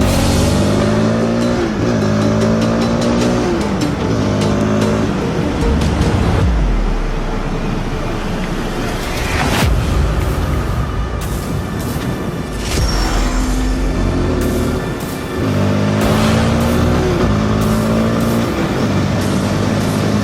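A car cruises along a road in China with two friends aboard, heading out to dinner; a steady engine and road rumble runs throughout, loud and close from inside the vehicle, with some passing traffic swelling mid-way.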